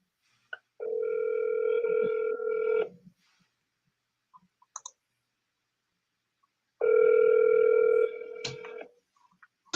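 Telephone ringback on an outgoing call: two long electronic ring tones about four seconds apart, each a steady buzzing tone lasting roughly two seconds, clear and close with near silence between.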